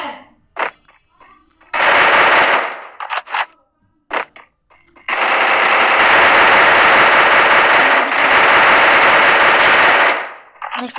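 Video game gunfire in a headshot-focused shooter match, with short sharp shots early on giving way to long, loud sustained automatic bursts that dominate the mix.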